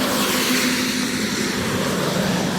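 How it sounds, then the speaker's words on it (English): Steady, broadband rumble of passing vehicles on a road near a village in the English countryside, loud and continuous with a low droning hum throughout and no voices. "sorry for the traffic."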